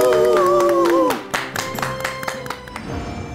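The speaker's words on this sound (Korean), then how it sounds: "큰 박수로 맞아주시기 바랍니다." Scattered handclaps from a studio audience greeting a guest on a Korean history lecture show, starting after a brief tonal passage and staying sparse and uneven, a few sharp individual claps standing out.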